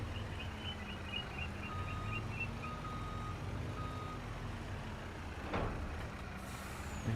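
Heavy truck in Farming Simulator 25 reversing with a steady repeating backup beeper over a low diesel engine drone, followed by a sharp hiss of air brakes near the end.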